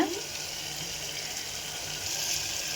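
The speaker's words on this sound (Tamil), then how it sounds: "தண்ணி கொஞ்சமாக விட்டுக்கலாங்க" Water pours steadily into a pan of masala for Madurai kari dosa, a continuous splashing rush that stays even for a few seconds, close by.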